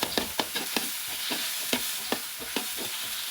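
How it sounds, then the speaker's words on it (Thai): Beef stir-frying with red sauce in a hot pan, a steady sizzle broken by repeated sharp scrapes and clacks of a utensil tossing the meat, fairly close with no talk. "หลังจากนั้นคลุกเคล้าซอสแดงให้เข้ากับเนื้อนะคะ"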